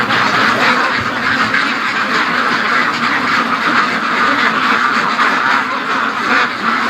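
A large flock of free-range ducks quacks loudly and continuously nearby, a dense overlapping chorus with no voices.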